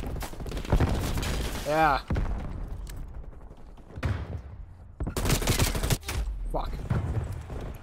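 RPD machine gun firing in Black Ops Cold War on the Nuketown map, several short loud bursts between game effects, with someone talking briefly.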